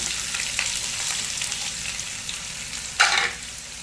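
Onions hit a hot pan for black chickpea chutney and fry with a continuous close sizzle, then a sharp burst of crackle near the end as more goes in, with no voices.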